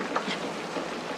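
Steady rain falling in a period Western setting, a dense even hiss with faint scattered patter, continuous and fairly loud with no other sounds.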